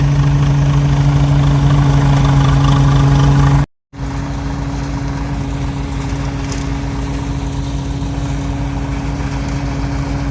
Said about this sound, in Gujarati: મોટું અલર છે આ ટ્રેક્ટર ઉપર હાલે